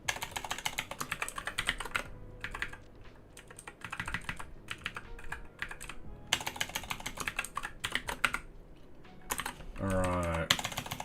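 Rapid clattering keystrokes on a worn, failing computer keyboard, close and fairly loud, coming in bursts with short pauses between runs of typing, during web development work on a project management system.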